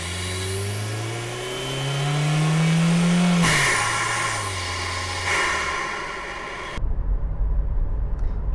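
A 1995 Volvo 940 Turbo engine, picked up close by a microphone in the engine bay, revs up in a loud steady drone that climbs in pitch, drops back, then gives way to a rougher idle at the end.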